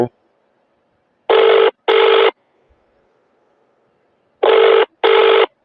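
A telephone rings in two short double bursts, loud and electronic, with quiet pauses between them.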